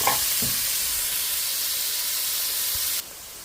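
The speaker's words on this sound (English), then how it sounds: "I added a little bit more lard to my pan, and there goes the steak." Sirloin steak bits hit hot lard in a pan and sizzle loudly, a steady close-up hiss with a couple of clinks at the start, cutting back sharply near the end.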